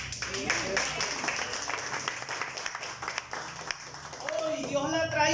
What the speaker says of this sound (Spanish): Un aplauso a esa amiga